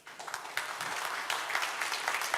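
Audience applause at a smartphone launch event for the OPPO Reno2, a dense wash of many hands clapping steadily at moderate distance, swelling slightly and sustained throughout without speech.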